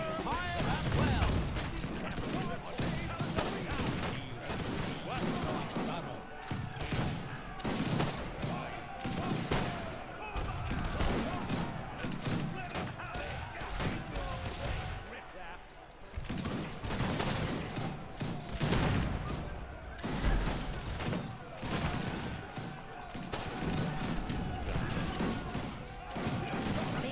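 Rifle volleys in the video game Age of Empires 3 crackle in repeated sharp bursts across a long battle, loud and near, with brief lulls between salvos and faint unit voices in the mix.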